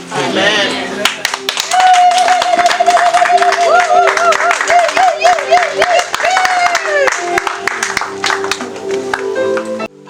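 Wedding guests at a confirmation ceremony clap rhythmically and loudly with whistles and cheers, while a voice sings or ululates over the crowd throughout.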